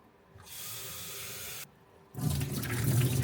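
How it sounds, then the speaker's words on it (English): Tap water runs in two bursts, a steady hiss, a short pause, then a louder fuller gush, close by and with no voices, filling water to give to sprouts. "I have to water my sprouts."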